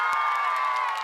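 A school crowd, children among them, cheers and shouts loudly for their principal, a bright, sustained chorus of voices.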